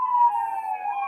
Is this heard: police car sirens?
yes